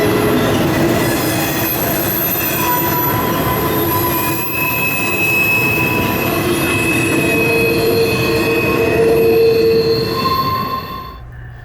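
A CSX intermodal freight train carrying UPS containers and assorted trailers rolls past close by on the River Line at Haverstraw, a steady heavy rumble of wheels on rails with high metallic squeals drifting in and out, continuous throughout.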